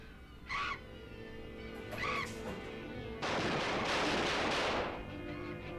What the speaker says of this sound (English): Quick, shoot it.